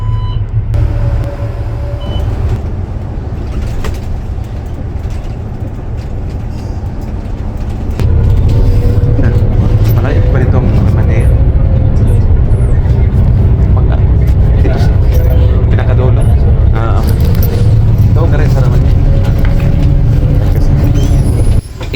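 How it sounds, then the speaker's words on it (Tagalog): Inside an Eastern Region Bus travelling from Dammam to Al Khobar, a steady low engine drone and road rumble grow louder partway through, with people talking over it. "ang sinakyan kong bus mula sa Damam papuntang Alcobar"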